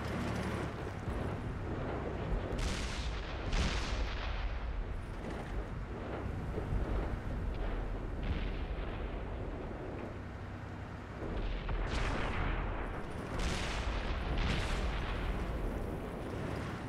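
Tank cannon shots in World of Tanks, several heavy booming blasts with broad rumbling tails spread across a continuous loud battle soundscape, no voices.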